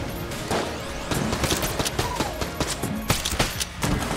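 Egg cannon firing in the video game Enter the Gungeon, a rapid burst of sharp cracking shots and breaking impacts, loud and dense throughout with no talking.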